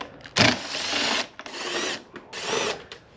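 A power driver fitted with a size 4 hex bit whirs in three loud, close bursts of about a second each, removing Allen screws from the fairing of a 2022–2024 Suzuki GSX-S1000GT motorcycle.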